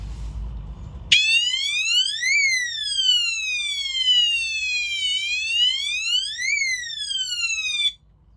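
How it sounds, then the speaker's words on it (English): A small homemade water tank level alarm shrieks a loud electronic wailing tone that sweeps up and down in a siren-like cycle, starting abruptly and cutting off after several seconds. "I'm just going to turn this little alarm on just so you get an idea of the kind of racket it makes."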